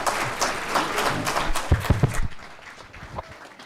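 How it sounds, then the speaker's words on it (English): Audience applause greeting speakers taking the stage for a fireside chat with a minister, a full burst of clapping that cuts off after about two seconds, followed by a few low thumps and quieter room noise. "Please give them a huge round of applause"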